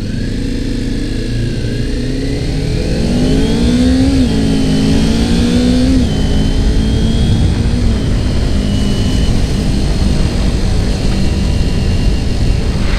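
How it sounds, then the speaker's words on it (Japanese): A 2018 Kawasaki Ninja 250 motorcycle being ridden on a test ride, its engine loud and close with rising and falling revs as it pulls through gears, steady road and wind noise beneath. "なんかやっぱエンジン音もちょっと最近の川崎っぽい音ですね。"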